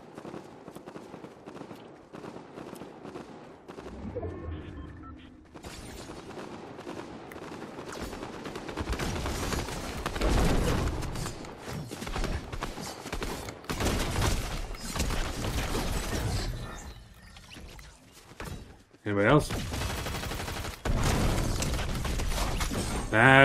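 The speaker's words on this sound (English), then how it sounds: "The gunfire stopped. Never mind." Bursts of rapid gunfire and explosions from Fortnite crackle on and off, with loud clattering volleys and short pauses between them.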